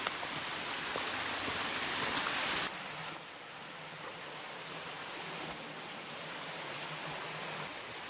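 Sydnope Brook in the Peak District flows beside a footbridge, a steady broadband rush of water heard up close that drops slightly in level partway through and then carries on evenly.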